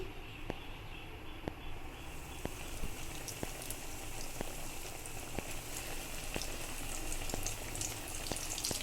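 Food sizzles steadily in hot oil for a home breakfast in the kitchen, a dense crackling hiss with regular sharp clicks throughout, close and fairly loud, with no talk over it.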